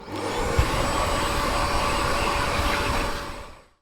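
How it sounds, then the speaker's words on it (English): A powerful vacuum cleaner drawing over 1000 watts runs from a Jackery Explorer 1000 portable power station, giving a loud, steady motor roar and whine that holds evenly for several seconds before cutting off. "even something like a powerful vacuum, which can use up to and even over 1000 watts, is not a problem at all for the Explorer 1000"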